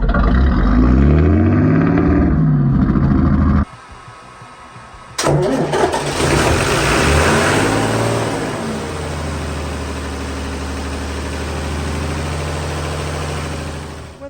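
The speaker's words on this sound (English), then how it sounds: "Let's start her up." A damp, cold boat engine, warmed by a heat gun with its air filter removed, cranks loudly, cuts out briefly, then catches and settles into a steady mid-pitched idle, close and alone.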